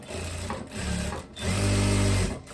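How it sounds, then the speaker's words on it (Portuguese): Sewing machine stitching a pocket on a tailored blazer, running in two short bursts with a brief pause between, close and loud, alone with no talk. "E eu vou costurar aqui"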